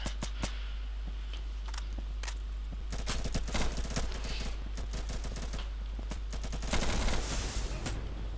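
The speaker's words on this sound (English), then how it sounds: "Just getting the rounds down range" Rapid bursts of gunfire from the tactical shooter Insurgency crackle throughout, dense overlapping shots and automatic fire at close and medium range, growing heavier toward the end with no talking.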